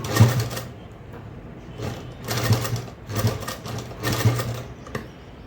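A sewing machine stitches a blouse jacket in repeated short bursts of rapid mechanical whirring, close and clear, separated by brief pauses.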